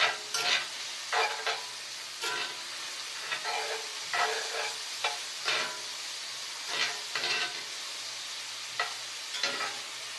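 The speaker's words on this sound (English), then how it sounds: "Everything's sizzling and fizzing just right." Mushrooms and carrots stirred in a hot pan, with a steady sizzle and hiss under repeated scraping, clattering strokes of a utensil, close and clear with no talking.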